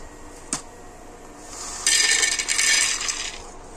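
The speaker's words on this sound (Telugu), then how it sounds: "ఫస్ట్ పల్లీలు వేసుకుందామండి" A single clink, then a loud, bright rattling patter lasting about a second and a half as raw peanuts are poured into a pan for frying, close by with no talk.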